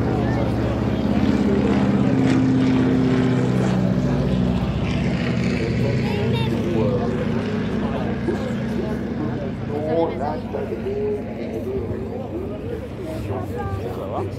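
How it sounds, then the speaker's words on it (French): Propeller airplanes flying past over the Le Mans Classic circuit, a loud sustained droning roar that swells and fades, heard under ongoing French talk. "Et on a les avions de tout à l'heure qui repassent par là."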